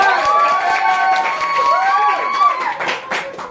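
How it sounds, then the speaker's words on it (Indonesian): A classroom of students claps together on cue in a sociology micro-teaching lesson, a short burst of hand claps mixed with loud overlapping voices and cheering. "tepuk tangan untuk kita semua"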